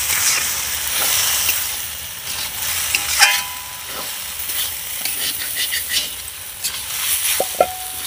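Soybean khichuri stirred in a pot gives an uneven scraping and shuffling over a soft hiss, with a few light metallic clinks near the end, heard close and alone.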